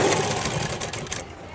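A sewing machine runs steadily while stitching the side seam of a blouse, a continuous close mechanical whir that eases off toward the end.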